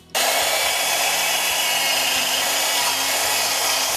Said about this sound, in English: to put a little bevel on the edge, I don't have a tool for that, I just tilt the drill